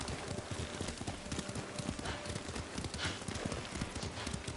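A horse gallops in Ghost of Tsushima, steady rapid hoofbeats drumming continuously over a wind-like wash, loud and close, with no talk over them.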